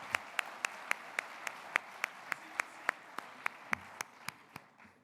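Audience applause at a Mauricie sports tribute gala, with sharp claps falling in a steady, even rhythm over a broad crowd wash that thins and fades near the end.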